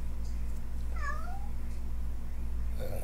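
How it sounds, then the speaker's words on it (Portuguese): A single short meow from a domestic cat, rising then falling, heard clearly once over a constant low electrical hum in an indoor room. "Essa é uma das minhas gatas."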